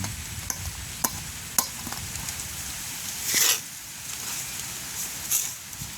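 Laddu batter tapped through a small spoon into hot frying oil in a village kitchen, with sharp metallic taps at intervals over a steady sizzle and a brief louder burst of frying midway.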